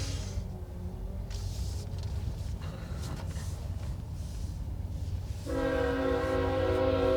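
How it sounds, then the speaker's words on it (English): A long freight train rumbles past on the rail line, a steady low roar of wagons, then a loud sustained horn blast sounds near the end, close by. "That train will be a while as well. There's a train."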